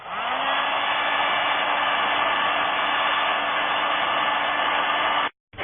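A heat gun blows continuously while heating the ends of a white PVC pipe, a loud, steady whooshing hiss with a faint whine that cuts off abruptly near the end.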